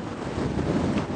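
Strong westerly wind gusting over 30 knots on a sailboat in the sheltered western Solent, with wind-with-tide waves; steady roaring wind buffeting the microphone and a constant rushing wash of water, fairly loud and unbroken, no voices.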